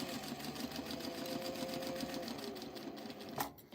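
A sewing machine runs a fast, even, tiny-length basting stitch through mesh on a tote bag, its rapid rhythmic ticking close and steady, ending with a brief clack as it stops.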